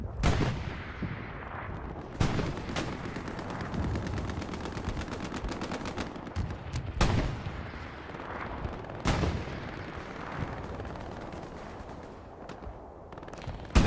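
Tank battle gunfire in a World War II North Africa strategy game, British Crusader tanks against the Afrika Korps at El Alamein: a steady din of distant shots and rumbling fire, with several sharp loud cannon blasts cutting through at intervals.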